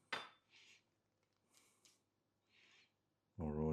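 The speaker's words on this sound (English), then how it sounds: "We can spread that out with a knife." A knife spreads food across bread for a microwave-toasted sandwich with KFC leftovers, making a few short, soft scraping strokes separated by quiet pauses. A voice starts speaking at the very end.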